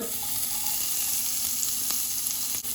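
Onion frying in hot oil in a pan, a dense, loud, steady sizzle heard up close without talking, ending with a brief clink.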